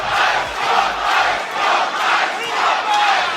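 A loud wrestling crowd at an AEW match in Las Vegas chants in unison, swelling and falling in steady rhythmic waves across the whole arena.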